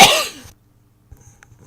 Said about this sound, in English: Wow, coughing and sneezing.